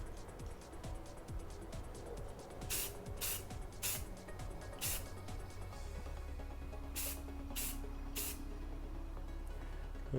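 Short hissing bursts of spray paint coat a Boba Fett helmet in a handful of separate blasts, some grouped close together, set against a steady background rumble.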